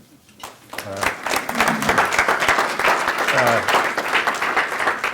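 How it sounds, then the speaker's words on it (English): Audience at a service club meeting breaks into a round of applause for a guest speaker, the clapping swelling quickly and staying loud and close, with a few voices talking and calling out over it. "let's give a good round of applause for our speaker"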